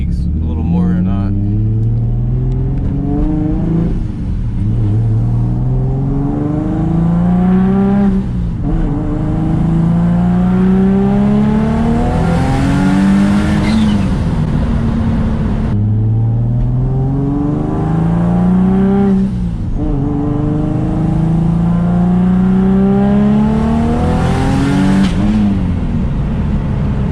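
A turbocharged car running high boost pulls hard in third gear, engine pitch climbing repeatedly through long sweeping revs with brief drops between, loud and close from inside the cabin, with occasional voices over the engine.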